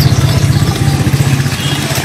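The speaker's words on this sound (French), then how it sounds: "nous prenons place à bord d'une moto" A motorcycle engine runs steadily and close by on a ride toward Johannesburg in Cameroon, its low rhythmic throb continuous and loud with a clattery edge throughout.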